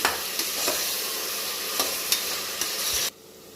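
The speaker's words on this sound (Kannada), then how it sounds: "ಚೆನ್ನಾಗಿ ಹುರ್ಕೊಳ್ಳೋಣ." Soya chunks and peas sizzle steadily in a hot pan as pulao cooks, with a few sharp scrapes of stirring before the frying noise drops off abruptly near the end.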